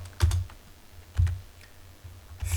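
Keys tapped on a computer keyboard while typing code, a few short bursts of clicks with brief pauses between them, close and fairly quiet.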